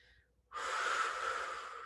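One long, forceful exhale rushes out at close range during a low-intensity ballet floor barre exercise, after a brief quiet moment with faint background sound, with no talk over it.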